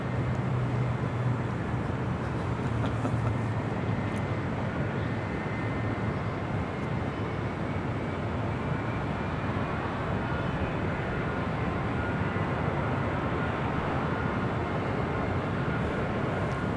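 A Piper light aircraft departs runway 25 left at LAX, its engine a steady broadband roar that holds constant with no voices over it.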